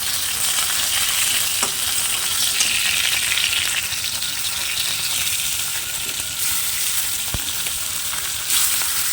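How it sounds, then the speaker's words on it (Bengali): Taro stems and chilli fry in a pan with a steady, dense sizzle and crackle, close and continuous, with faint stirring clinks and no voices. "একটু লাল লাল করে ভেজে নেব তারপরে আমি প্রচুর লতিতে দিয়ে একটু ফ্রাই করে নেব"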